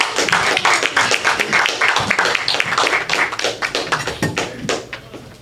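Live audience applause at an open mic comedy night at The Brew House Gallery, sustained dense clapping close and loud from start to finish, thinning slightly toward the end.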